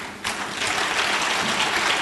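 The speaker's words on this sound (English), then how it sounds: "round of applause" A crowd at a first anniversary and 76th birthday celebration bursts into applause, rising abruptly into a dense, sustained wash of many clapping hands that holds steady and loud.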